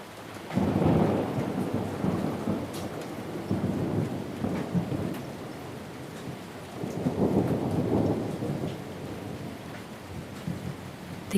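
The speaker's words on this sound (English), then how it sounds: "The rain is falling." Steady rain patters on surfaces while low thunder rolls twice in long swelling rumbles, with no voices.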